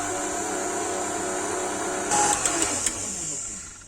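An electric mixer whisks cream with a steady, close motor whine, a few sharp clinks of the beaters against the bowl near the end.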